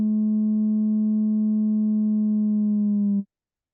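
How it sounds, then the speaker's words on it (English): Serum synthesizer patch with a filter and the oscillator switched off, a single steady, pure low tone sustained for about three seconds at constant loudness before stopping abruptly. "I'll show you what it sounds like with the oscillator off, so you can hear just the sound itself."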